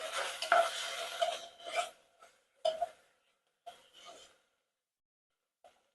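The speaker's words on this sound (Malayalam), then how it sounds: "ഇത്രയും ചേർത്ത് ഇനി ഞാൻ ഇതൊന്ന് മിക്സ് ചെയ്യട്ടെ." Stuffing ingredients for bell peppers, with ginger garlic paste, being stirred and mixed in a bowl: a few short scraping, rubbing bursts, loudest at the start, then sparse faint strokes with quiet gaps.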